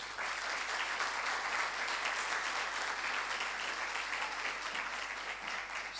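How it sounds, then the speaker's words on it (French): An audience at the opening session of a youth summit applauds a university president, steady dense clapping from a large hall that holds evenly throughout, with no talk over it. "Je vous demande de l'applaudir."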